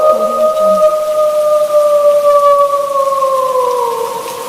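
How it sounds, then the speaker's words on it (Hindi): Wolves howl in a long, sustained, slowly falling cry that lasts several seconds, loud and near, layered over a steady wash of heavy stormy rain. "ये भेड़ियों की आवाज और ये तेज तूफानी बारिश"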